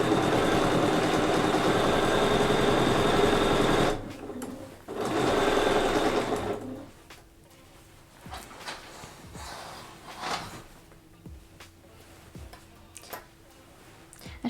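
A sewing machine machine-quilting a quilt runs in a steady fast whir for about four seconds, pauses, runs again briefly, then gives way to quiet handling clicks and faint knocks.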